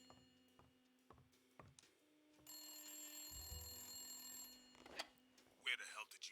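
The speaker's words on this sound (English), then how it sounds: "We gotta answer the phone." An old-fashioned telephone bell rings in repeated bursts inside a Blacksad: Under the Skin game scene, a quiet ticking clock in the background, with a few thumps and clicks toward the end.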